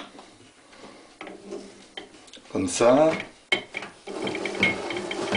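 A hand-cranked radio coil winder turns and feeds wire back and forth onto a bobbin, giving soft rubbing and ticking mechanical sounds under someone speaking French.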